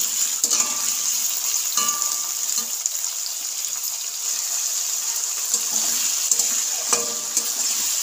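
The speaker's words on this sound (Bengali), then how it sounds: "তেলটা আমার খুব গরম হয়ে গিয়েছে। পেঁয়াজটা আমি ভালো করে ভেজে নেব।" Onion sizzles and fries in very hot oil in a karai, a steady bright crackle with occasional clatters of stirring, with no voices.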